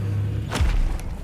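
A Bombarda blasting spell in Hogwarts Legacy goes off as a single dull thump with a brief whooshing burst, followed by a low rumble, close and fairly loud.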